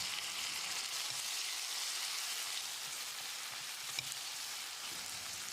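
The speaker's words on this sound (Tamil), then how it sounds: "அரை டீஸ்பூன் உப்பு சேர்த்து தக்காளியை மசிகிற அளவுக்கு வதக்கிடலாம்." Steady sizzling and crackling from chopped tomatoes frying in a hot pan, continuous and fairly close, with a few soft stirring clicks and no talking.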